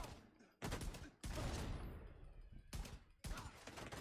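Gunfire in Destiny comes as bursts of loud, sharp shots in quick succession, broken by brief pauses, with a faint voice under the shots.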